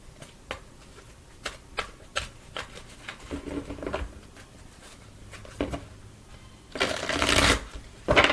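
Tarot cards shuffled for a reading, a run of quick papery riffles and flicks building to a denser, louder burst of shuffling near the end, with no one talking.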